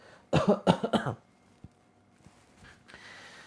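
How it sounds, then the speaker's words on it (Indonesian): A short burst of three or four harsh coughs close to the mic, followed by quiet with a few faint taps. "Sampai di tenggorokan batuk-batukan."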